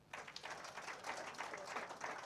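Steady applause from a crowd at a Post Bank and MTN Uganda launch event, many hands clapping continuously at moderate volume, slightly distant.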